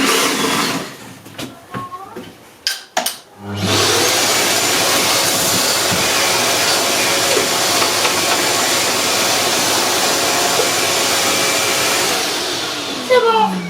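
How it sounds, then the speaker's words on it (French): A vacuum cleaner starts up after a few thumps and then runs loudly and steadily, a continuous roar during renovation work. "Là maintenant je vais aspirer."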